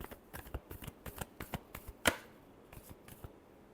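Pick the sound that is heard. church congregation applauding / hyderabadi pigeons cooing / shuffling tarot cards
shuffling tarot cards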